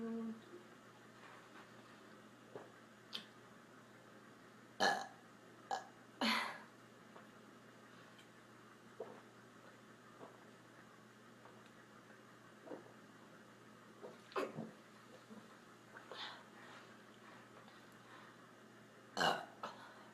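A woman burps repeatedly, sharp close belches scattered across a quiet room, some longer and rumbling, others short, with soft breathing and small noises between them.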